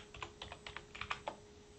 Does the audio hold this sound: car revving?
no